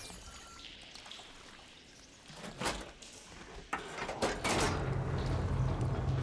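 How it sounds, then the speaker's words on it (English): In the video game Horizon Forbidden West, machinery switches the water flow with mechanical clunks and a rising rush of pouring, gushing water that builds from faint to a steady loud flow. "Sounds like the water's switched."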